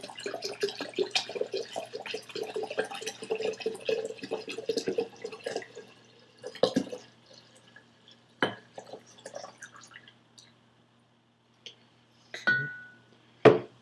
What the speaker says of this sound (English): So I'm going to pour that here,